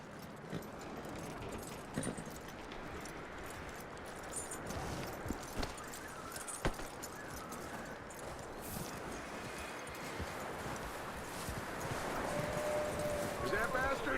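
Horse hooves clip-clopping in the video game Red Dead Redemption 2, a soft steady rhythm of footfalls under characters talking.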